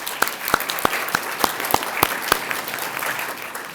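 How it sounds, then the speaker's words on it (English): Audience at a school art exhibition clapping, a burst of sharp individual claps over a thinner crowd of applause that tails off quickly. "one more round of applause for our wonderful artists"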